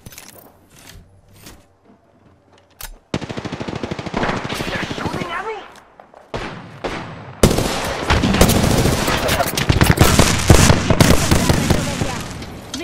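Rapid bursts of automatic gunfire crack loudly through a shooter video game match, starting sparse and quiet, then swelling into dense, sustained volleys with brief pauses and overlapping in-game voices.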